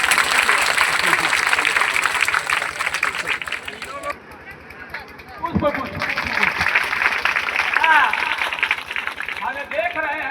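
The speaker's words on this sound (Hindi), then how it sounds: "आप ताली देंगे।" Audience applause at a community hall groundbreaking ceremony in a village panchayat, a loud burst of clapping that fades briefly, then resumes amid crowd chatter and talk.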